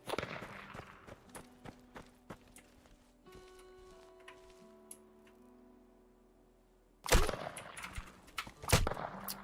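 Gunfire from a sniper rifle in the survival shooter game Deadside: faint ticking clicks give way to two loud, sharp shots near the end, the second following a couple of seconds after the first.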